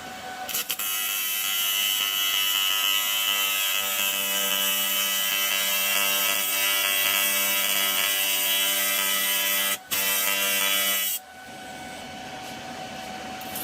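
AC TIG welder striking an arc for a tack weld on cast iron, giving a loud, steady high-pitched buzzing hum for about ten seconds with a brief dropout near the end, then stopping to quieter room noise.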